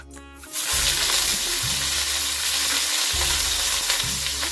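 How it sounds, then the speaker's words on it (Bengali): Cauliflower dropped into hot oil in a pan for a Bengali fish curry lunch, after frying potatoes; a faint click, then loud continuous sizzling that is briefly broken by stirring. "এবারে আমরা ফুলকপিটা ফ্রাই করে নিচ্ছি।"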